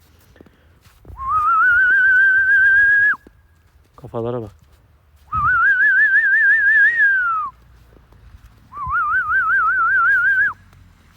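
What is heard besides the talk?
human whistling to call dogs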